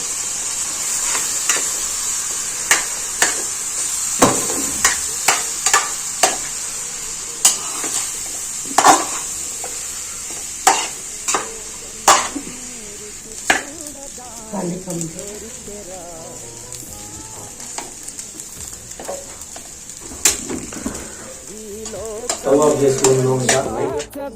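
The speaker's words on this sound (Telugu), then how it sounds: "సో మనం తీసుకున్న రైస్ మేము ఇప్పుడు కలుపుదాం ఇందులో" Rice being stirred into a pulihora mixture in a pan, with repeated sharp scraping and clacking strokes of a spoon against the pan over a steady hiss. The mixing turns busier and denser toward the end, and faint talk appears in places.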